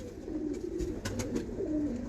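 A pigeon on a rooftop loft coos in a low, rolling, repeated call close by, with a few faint clicks and flutters around it and no voices.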